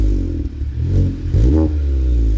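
A tuned Stage 3 GTI fitted with a new resonator revs hard up close, its engine note climbing in a couple of quick throttle blips over a steady mechanical drone.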